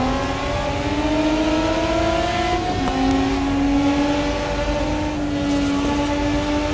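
Engine of a Nissan Skyline R34 revving in Assetto Corsa on Japanese roads, a steady smooth drone that rises and falls through gear changes, loud and continuous with no talk.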